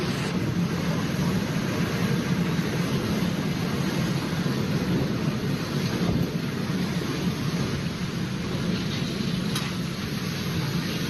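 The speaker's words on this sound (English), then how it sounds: "Thunder echoed continuously, and lightning flashes illuminated the skyline as heavy rain fell with sustained intensity." Heavy, sustained rain roars steadily through a thunderstorm, with continuous low thunder rumbling beneath the dense downpour and no pauses.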